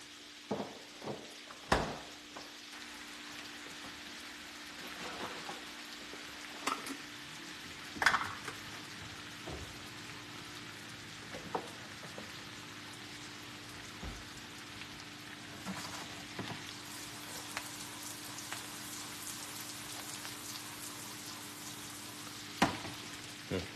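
Onions sauté in a pan with a low, steady sizzle and soft crackling. Occasional stirring scrapes and clunks rise above it, and there is no talk.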